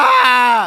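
A human voice imitates an elephant crying out loudly in pain, a single close, strained groaning wail that slides downward and fades at the end.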